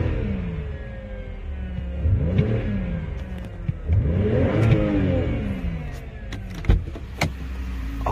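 Two rising-and-falling throttle blips from a 2008 BMW X5 3.0 xDrive, heard up close at a scrapyard. The engine swells twice over a steady idle, with a few light clicks near the end and no speech.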